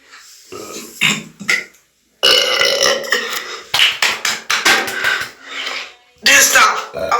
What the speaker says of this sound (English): I hate burping in this household.